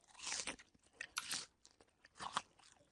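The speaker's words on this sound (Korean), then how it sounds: "사과 먹는 소리잖아요" Crisp apple bites crunching three times in succession, each a sharp close-up burst of crackle followed by chewing, with no talk.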